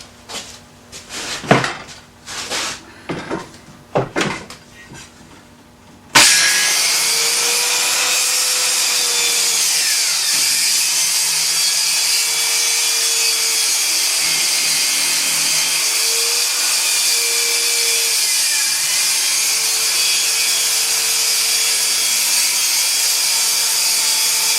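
A Skil circular saw rips a wood board along a clamped guide, its loud steady whine kicking in after a few handling knocks and running continuously near and alone for the rest.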